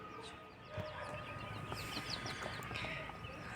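Small chicks on cloth bedding give soft, repeated peeping and clucking calls, fairly faint over a steady background hiss.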